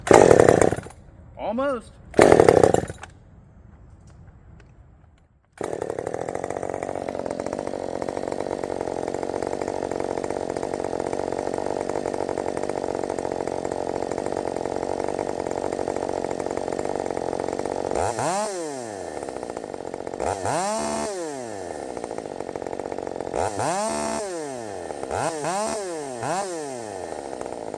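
A Redmax 5000 chainsaw fitted with an open muffler sputters through a few short start attempts, then catches and holds a loud, steady high idle, later revving in several sharp bursts; a voice speaks briefly near the start.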